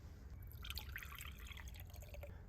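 Liquid dripping and trickling as steeped herbs are strained out of a winter herbal tea, a faint, close series of small splashes and drips.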